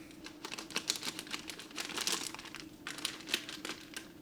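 Thin plastic bag crinkling as a disposable grip is fitted and a tattoo machine is bagged up, a steady close run of soft rustles and crackles with a few sharper crinkles.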